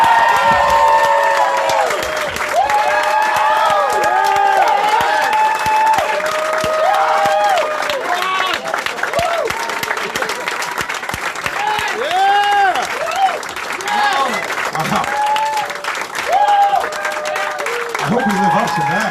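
A comedy club audience applauds and cheers for stand-up comedians Big Jay Oakerson and Ron Bennington, steady loud clapping and whoops filling the room for nearly twenty seconds while a host's voice talks over the noise.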